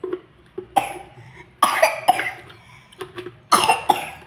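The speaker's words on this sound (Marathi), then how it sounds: "खोकला लई झालाय." A person coughs in repeated bursts, about four harsh fits spaced across a few seconds, close and fairly loud with quiet gaps between them.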